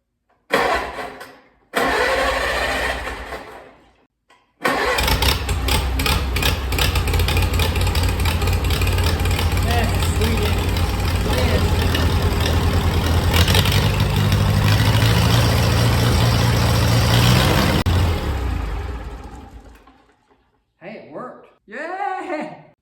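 A restored 1952 Farmall Cub tractor engine cranks with a short false start, then catches and settles into a loud, steady idle up close before it is shut off. Voices talk near the end.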